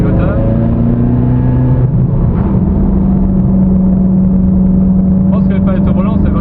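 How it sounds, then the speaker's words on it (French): A Ferrari engine downshifts with quick throttle blips while stuck behind a Toyota; a steady, rising rumble sits under someone talking throughout. "Alors rétrogradage, les petits coups de gaz, c'est génial."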